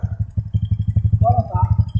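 A motorcycle engine runs close by with a fast, steady chugging pulse, rising briefly in pitch partway through as if lightly revved, loud and continuous for two seconds.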